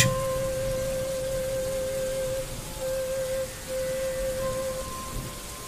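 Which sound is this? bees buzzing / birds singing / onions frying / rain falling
rain falling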